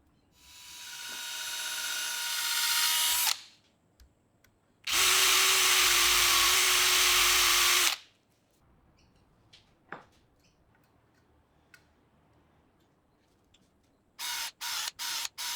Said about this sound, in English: I'm drilling a pilot hole first